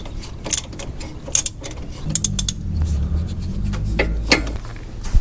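Hardware is worked off the sway bar end link of a Jeep JL Unlimited, with metallic ratcheting, clinks and tool clatter close by at moderate loudness over a low background hum.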